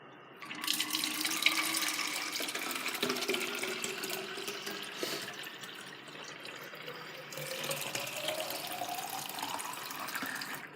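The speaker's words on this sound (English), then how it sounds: "So, I'm going to fill it with water." Tap water runs steadily into a plastic bottle for several seconds, the splashing tone rising in pitch as the bottle fills, close and without talk.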